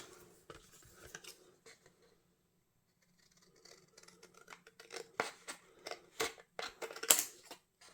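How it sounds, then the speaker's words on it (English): Scissors snip out a handmade paper card decorated with Distress Oxide ink, giving a run of close, crisp cutting strokes that quicken toward the end after a quiet pause. "I'm just going to cut that out with my scissors."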